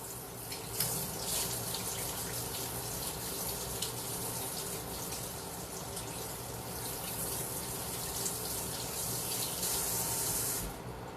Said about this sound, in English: So let me wash this off the pan again.